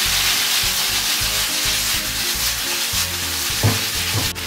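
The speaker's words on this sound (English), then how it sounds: "After we saute the potato," Boiled potato sautéing in a pan for a Mexican dish, a steady broadband sizzle with rhythmic scraping and stirring strokes, close and loud with no voices.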